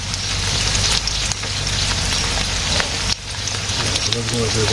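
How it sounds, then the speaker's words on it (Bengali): Potatoes frying in hot oil in a village kitchen, a steady dense sizzle and crackle that runs throughout without pause, with a few brief dips in level. "আলু ভাজতেছি"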